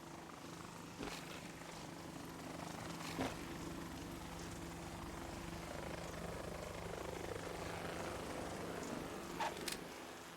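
A helicopter in the video game Metal Gear Solid 2 drones steadily with a constant rotor hum, fairly faint and unbroken, with a few soft clicks.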